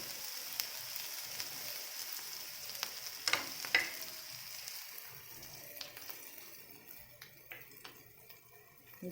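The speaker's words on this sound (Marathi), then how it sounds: "चांगला कांदा असं तेलात सगळा भाजून घ्यायचा लसूण पण त्याच्याबरोबरच आहे आपला" Onion and garlic fry in oil for a bitter gourd dish, a quiet, steady sizzle with scattered crackles and occasional utensil clinks, gradually softening toward the end.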